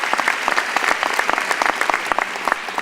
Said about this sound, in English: Please join me for one more round of applause to all of our